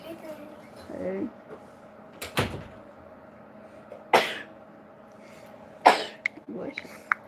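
Several abrupt, explosive bursts, sneezes or coughs, come from a person indoors, spaced a couple of seconds apart, with quiet background talk between them.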